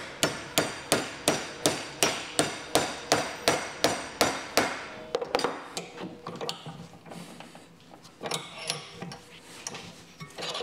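A hammer pounds a metal power steering bracket in a home garage during an electric power steering conversion on a car, giving a rapid, steady run of about a dozen ringing blows, then irregular clanks and knocks, close and without talking.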